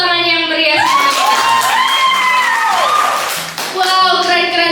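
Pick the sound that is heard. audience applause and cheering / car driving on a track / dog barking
audience applause and cheering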